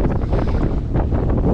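Strong wind buffets the microphone in a steady, loud roar at Stavoren harbour, a small Dutch port, with broadband gusty rumble throughout and no voices.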